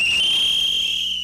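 Protesters blow whistles, a loud, piercing, sustained shrill tone held steady for over a second, close and dominant with no talk.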